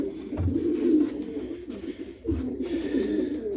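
Pigeons kept by a breeder coo close by in low, throaty rolling calls, two or three phrases in quick succession.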